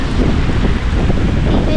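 Strong wind batters the microphone outdoors, a loud continuous roar and rumble with gusty buffeting throughout, no clear talk over it.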